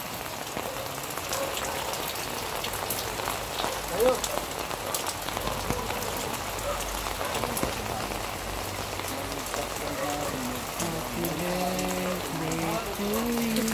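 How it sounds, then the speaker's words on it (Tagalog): Heavy rain pours steadily on a surface, a dense hiss of drops throughout, with faint voices in the background. "At ayun, malakas ang ulan."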